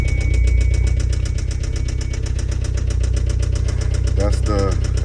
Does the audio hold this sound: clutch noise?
yes